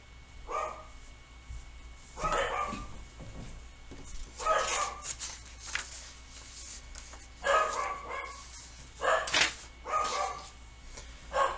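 Dogs bark repeatedly in short bursts of several yaps each, recurring every couple of seconds throughout, somewhat distant and moderately quiet indoors.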